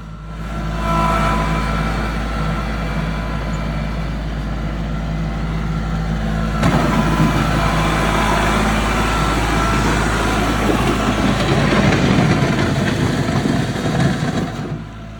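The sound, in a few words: machine engine while its bucket smooths out dirt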